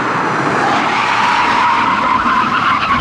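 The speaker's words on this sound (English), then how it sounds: "hit the brakes as hard as possible and see how long they take to come to a complete standstill" A car brakes as hard as possible from about 120 during an Audi A3 braking test, tyres skidding loudly and steadily for the whole stretch with a rising squeal and no voices over it.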